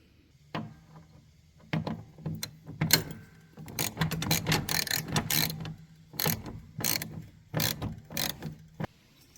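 A ratchet wrench tightens the idler pulley bolt on a Husqvarna riding lawn mower during a drive belt replacement, with close, repeated clicking bursts in irregular runs and short pauses, and no speech.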